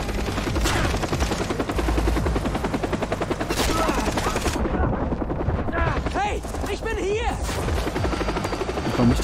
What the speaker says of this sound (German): Der Helikopter ist ein kleines Problem.